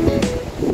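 Wind gusting across an outdoor park, Al Bidda Park, with broad rushing noise buffeting the microphone in a steady loud wash over a short stretch.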